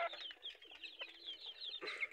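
Native laying hens and their home-raised chicks about three months old cluck softly and repeatedly in a farm cage, a quiet chatter of overlapping calls with a slightly louder squawk near the end.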